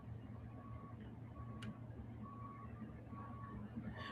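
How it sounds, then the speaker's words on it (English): A bus backs up with its reversing alarm beeping at a steady, even rhythm, faint and somewhat distant over a constant low engine rumble and background hum. "I hear a bus backing up."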